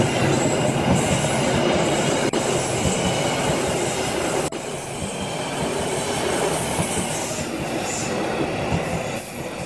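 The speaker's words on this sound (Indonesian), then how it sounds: "Dan ketika kereta lewat, si Agung langsung lompat ke atas kereta." A train rolls past at close range, a loud and continuous rumble of wheels on rail with metallic squeal and clatter filling the whole stretch without letup.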